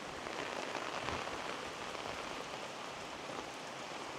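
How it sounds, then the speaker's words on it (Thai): Heavy rain pours down steadily during a storm at a countryside garden home, a dense, even hiss of drops on surfaces with no pauses or voices. "ฝนตกยางแรงเลยครับ"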